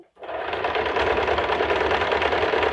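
A sewing machine runs continuously and fast as it stitches fabric for a long party-wear gown, a close, even mechanical whir with a rapid needle patter that starts abruptly after a short pause.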